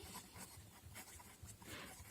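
A pen scratches across paper in short, soft strokes, faint and close, with no voices.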